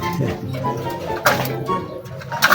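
Pigeons at a loft, with bathing and breeder birds, coo in low, repeated, throaty calls, close and fairly loud, overlapping each other throughout.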